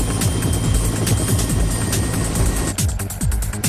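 A helicopter hauls the end of a suspension bridge cable from its anchorage to the first tower of the Akashi Kaikyo Bridge, its rotor thumping loudly and rhythmically under a dense engine roar.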